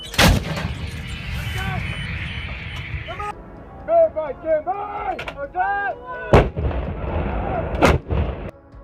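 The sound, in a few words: artillery fire in war footage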